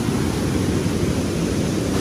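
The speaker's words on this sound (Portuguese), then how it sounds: "Na cachoeira. A primeira das cachoeiras." A waterfall pours in a steady, dense, unbroken roar of rushing water, loud and close with no voices over it.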